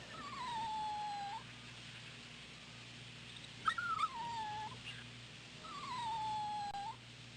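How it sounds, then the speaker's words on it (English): In the Rule of Rose video game, Puppy Brown the dog whimpers three times, each a thin, falling whine lasting about a second, with pauses between them, above a constant low background hum. "Yeah, it's Puppy Brown."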